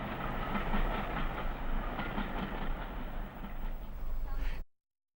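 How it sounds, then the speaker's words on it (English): Freight train hauling British Motor Corporation road vehicles in 1964 rolls past with a steady rumbling clatter and rhythmic wheel clacks, cutting off abruptly near the end. "It's another train of road vehicles."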